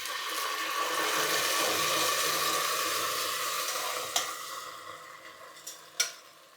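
Nadan puzhukku being stirred and sautéed in a pan, a continuous soft sizzle with scraping from the spoon that fades toward the end, then a few sharp knocks of the utensil against the pan.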